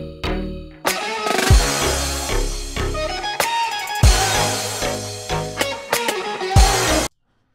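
A dense electronic passage stacks a deep Serum preset bass under bright synth plucks, a steady, loud wall of sound with recurring heavy hits that runs about seven seconds and then stops abruptly into silence.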